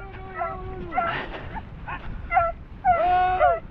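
Hunting dogs chasing rabbits in sand dunes whimper and yip in short, high, wavering bursts. The cries are close and come in several separate calls, with some scuffling and background noise between them.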